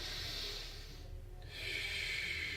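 A deep diaphragmatic inhale during a guided breathing exercise, a long steady airy rush that dips briefly midway and then swells again, close and continuous with no talking.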